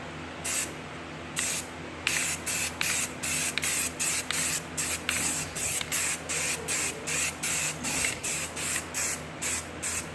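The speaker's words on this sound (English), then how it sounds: "But you want to lay it on in thin coats. Thinner is better." Rustoleum NeverWet coating hisses from an aerosol can onto an ATV in a long series of short, regular spray bursts, close and steady, with no one talking.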